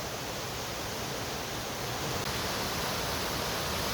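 A waterfall along the Salmon Creek Trail in Big Sur roars in a steady, loud, broadband rush that stays constant throughout, with no voices over it.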